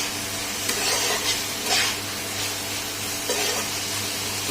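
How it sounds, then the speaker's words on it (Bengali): Vegetables sauté lightly in a home kitchen pan, a continuous soft sizzle with occasional stirring scrapes and brief hissing bursts, close, with no talking. "তো আমি এটাকে একটুখানি কষিয়ে নেবো এবার হালকা করে।"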